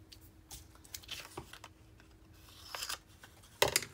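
Scissors snipping paper to trim a junk journal tag straight, a few quiet crisp cuts and rustles ending in a louder close snip.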